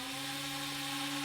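A small brushed motor spinning and pushing air, giving a steady, faint, even whir with a constant tonal hum and no change in pitch over the short moment.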